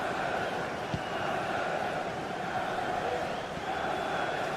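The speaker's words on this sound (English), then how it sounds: "Well, just listen to this crowd." A football stadium crowd at a Chelsea match makes a continuous, even roar that holds steady throughout without distinct peaks.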